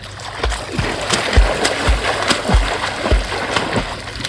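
Someone swimming in shallow water at a hotel in Ranthambore, Rajasthan: loud, close splashes and slaps of water in an irregular rhythm, roughly one every half second, with sloshing between them.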